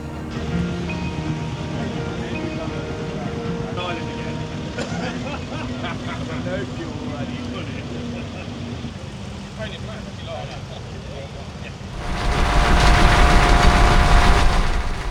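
A 1925 Burrell steam engine, number 4000, works at a fairground, giving a steady mechanical rumble and hum with a voice talking over it, before a louder burst of broadband noise near the end.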